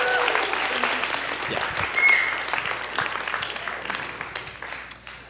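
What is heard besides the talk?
applause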